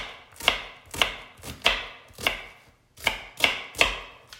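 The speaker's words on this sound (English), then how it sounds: "I'm going to dice this." A knife chops through an onion on a cutting board in seven sharp, close, evenly spaced strikes, each a crisp thunk with a brief tail, and no talking.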